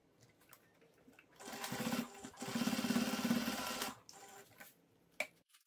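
A sewing machine bastes fabric with an eighth-inch seam for a zippered pack, running in two quick bursts of rapid stitching with a short pause between, close and fairly quiet, followed by small handling clicks.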